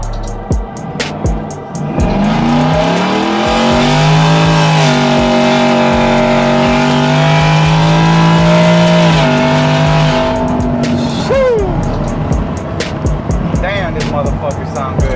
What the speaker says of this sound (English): Let's see what she sounds like at wide open throttle.